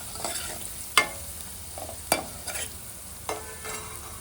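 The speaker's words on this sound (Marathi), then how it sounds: "हे सगळं व्यवस्थित मिक्स करून घेऊया" Spice masala with garam masala and chilli powder being stirred in hot frying oil for an aamti: soft scraping stir strokes with a few sharper clinks of the spoon against the pan over a faint steady sizzle.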